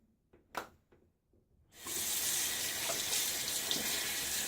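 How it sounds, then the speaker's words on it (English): After a few small clunks, a faucet turns on and cold water gushes steadily into a sink, a loud, continuous rushing that lasts to the end. "that cold water coming out of the faucet"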